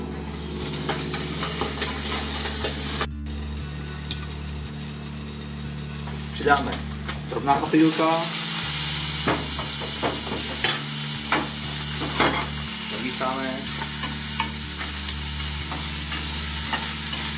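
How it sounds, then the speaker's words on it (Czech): Octopus fries in a covered pan with a steady, close sizzle running throughout, broken by occasional clatters and stirring scrapes, while a person speaks over the cooking. "Velice důležitá věc, když smažíte chobotnici, je důležitý přikrýt pánvičku."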